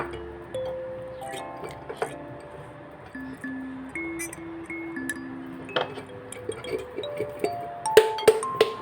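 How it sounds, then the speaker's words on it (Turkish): A glass jar packed with plums for pickling is shaken, giving a run of close, light clinks and knocks of fruit against glass that grow sharper and louder toward the end, with no talk. "Kavanozu iyice sallıyorum yerleşsin diye."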